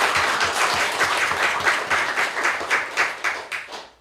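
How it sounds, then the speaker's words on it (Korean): Congregation applauding at a church anniversary thanksgiving service for a mission Methodist church, steady dense clapping throughout, fairly loud and close, thinning slightly near the end. "박수로 축하드립니다."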